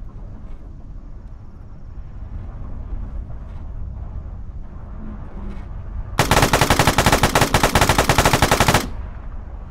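Sustained machine-gun fire in the military video game Arma 3, a loud, rapid burst lasting a few seconds over a quieter rumbling battlefield background.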